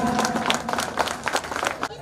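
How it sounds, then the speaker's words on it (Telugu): An audience clapping at a school alumni reunion gathering, a dense, steady burst of applause close by, with voices mixed in. "కరతాళ ధ్వనులతో గట్టిగా క్లాప్స్"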